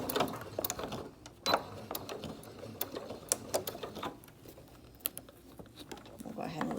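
A Singer sewing machine stitches fabric for a 3-D face mask in short, quiet bursts of rapid mechanical clatter, broken by pauses, small clicks and handling noises.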